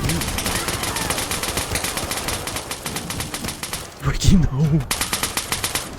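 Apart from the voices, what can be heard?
gunfire from shooting in Fallout New Vegas video game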